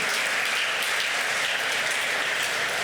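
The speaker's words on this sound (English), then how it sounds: "Give them a round of applause, please." Summit attendees at a substance use addiction conference applaud sponsors, a dense, continuous and fairly loud wash of clapping throughout with no talking over it.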